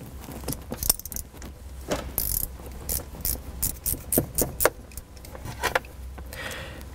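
Socket wrench removing stock shifter bolts on a Mustang, quick metallic ratcheting clicks and small tool clinks in irregular bursts, close and fairly quiet.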